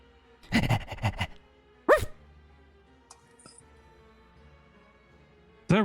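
A dog barks a few times nearby, a quick cluster of barks followed by a single bark and another at the end, with quiet background sounds between.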